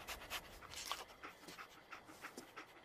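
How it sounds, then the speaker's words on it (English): Dogmeat the dog from the video game Fallout 4 panting steadily, rapid rhythmic breaths at close range, soft but clear with no talking. "Dog meat. Get the scent, boy."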